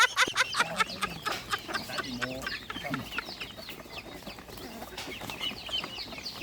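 Ducks and farm fowl at a Thai farm, one having fallen into water, heard as a busy burst of loud clucking and squawking calls close by, while excited voices shout over the commotion.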